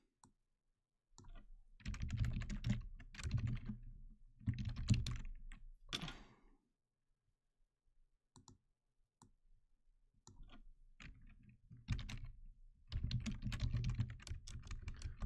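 Fingers type on a computer keyboard in quick bursts of close clicking keystrokes, separated by short pauses and a stretch of near silence in the middle.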